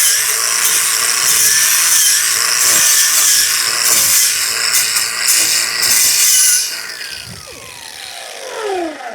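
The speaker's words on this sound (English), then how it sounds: "I got one of these twisted wire wheels. This is just a Harbor Freight one. That's my go-to for cleaning welds off." A Harbor Freight twisted wire wheel on a grinder scrubs flux core welds, giving a loud, continuous harsh abrasive whir for several seconds before the tool spins down and fades.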